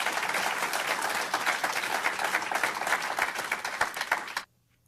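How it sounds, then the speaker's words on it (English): A crowd gives a big round of applause for Minister Louis Farrakhan, sustained and fairly loud clapping with a few whoops that cuts off abruptly near the end into near silence. "give the minister a big round of applause"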